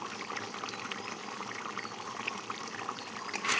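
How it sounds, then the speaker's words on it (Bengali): Ghee poured into a pan of cooking chicken, a soft steady trickle of liquid with faint sizzle, close and continuous with no talk. "এবার দিয়ে দেবো ঘি"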